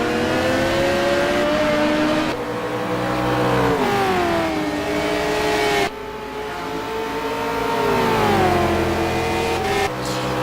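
GT1 race cars at the Nurburgring roar continuously, engine notes rising and falling as they brake and accelerate through corners, with sharp gear-change breaks and a loud, close, harmonic whine throughout.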